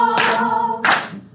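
Hands clap and feet stomp twice in quick succession, two sharp, loud bursts in a group sing-along setting, close and punchy with a short gap between them.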